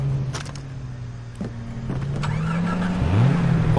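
A car engine in the video game Far Cry 3 hums steadily as the vehicle drives, its pitch holding, then rising as it revs and accelerates near the end, with a few faint clicks and knocks over it.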